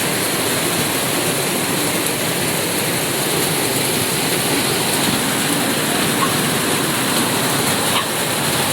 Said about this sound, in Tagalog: Lumakas yung ulan na.